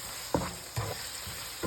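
Minced beef with spices sizzles in a pan while a spoon stirs it, giving a steady frying hiss marked by three or four soft scraping strokes, close by.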